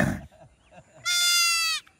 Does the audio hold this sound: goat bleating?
yes